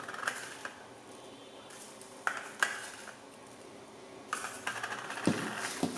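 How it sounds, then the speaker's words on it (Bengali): Urad dal batter with fennel seeds is beaten by hand in a bowl, giving soft, irregular scraping and knocking of a utensil against the vessel, with quiet gaps between strokes. "মৌরি দেওয়ার পর কিছুক্ষণ ফেটিয়ে নিচ্ছি যাতে ডালটা আরেকটু হালকা হয়।"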